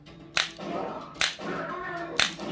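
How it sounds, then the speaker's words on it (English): Three sharp mechanical kicks from recoil light guns on a full-size Area 51 arcade shooter cabinet, evenly spaced under a steady hum of game audio, each a crisp snapping thud about a second apart. "These guns have the recoil on them, so that sound you hear is actually a little bit of kick coming from the gun itself"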